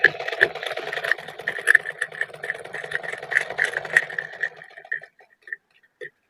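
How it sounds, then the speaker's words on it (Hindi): A domestic sewing machine runs steadily, stitching with a fast even whirring hum for about five seconds, then slows and stops with a few brief final bursts. "अब हमारी मशीन एकदम बिल्कुल सही सिलाई दे रही है"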